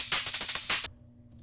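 A heavily distorted drum loop pounds out a quick run of crunchy, saturated hits for under a second, then cuts off abruptly into near silence.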